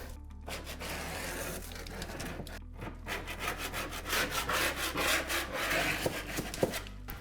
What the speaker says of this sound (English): I'm not worried about scraping this stuff off.